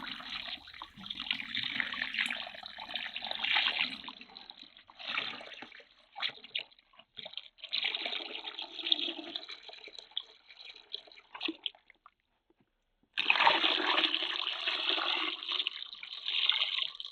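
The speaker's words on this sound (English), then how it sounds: "what remains is a watery clay mixture that is poured into crisp, clean fabric bags that line a handful of buckets" A watery clay mixture is poured into clean fabric bags lining buckets. The liquid gushes and splashes in long stretches, pausing between pours, with a short silent gap before a final strong pour.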